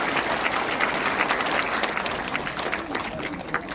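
An audience applauding together at a church gathering: full, dense clapping close by that holds steady for several seconds, with no voice rising above it.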